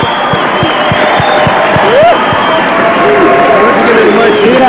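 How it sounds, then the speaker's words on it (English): A basketball crowd at Cabot Gym roars and cheers after a championship win in 1981, a dense sustained wall of voices with rhythmic stomping or clapping thumps underneath and scattered whistles rising above the din. "and the crowd reacts"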